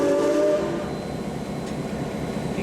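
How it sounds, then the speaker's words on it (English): Historic Empress 2816 steam passenger train rolling past up close on Canada Day, a loud continuous rumble of rail cars with a sustained tonal whistle-like ring early on, fading slightly over a few seconds, no talking. "Passenger train, that thing."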